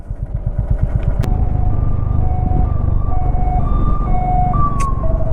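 An ambulance siren wails in rising and falling tones over a loud, dense rumble of idling and revving vehicles in a traffic jam near bridge construction on a road trip from Siliguri to Kolkata.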